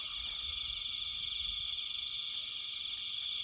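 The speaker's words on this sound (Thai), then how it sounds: "ยินแต่เสียงคันคากหรือว่าคางคกมันห้อง" Toads croak in a dense, steady night chorus near a stream, with a continuous layer of insect-like trilling and low rhythmic calls, loud and close throughout with no voices.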